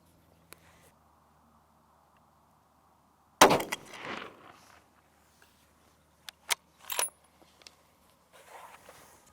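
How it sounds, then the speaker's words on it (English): A hunting rifle, fired from a seated position on a tripod, sends one sharp, loud report at a rock a little over 200 yards away, followed by quiet and a few small mechanical clicks. "we're gonna go ahead and take a shot at this rock out here at a little over 200 yards"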